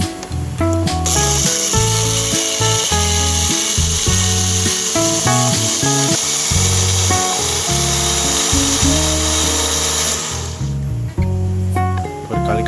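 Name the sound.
small blender blending artemia feed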